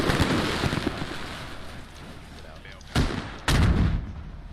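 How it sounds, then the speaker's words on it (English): A rocket-propelled grenade strikes and destroys a Bradley armored vehicle in the tactical shooter Squad, coming as two sharp, loud explosive blasts in quick succession over a steady rumble of battlefield noise. "Salty Toast will line up a very spicy RPG shot on the Bradley and take it out"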